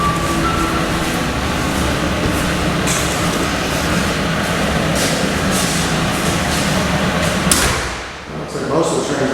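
Interior of a busy train station, with a steady wash of crowd murmur, rumbling rail noise and low engine hum running throughout, plus a few brief bangs; voices are heard in the background.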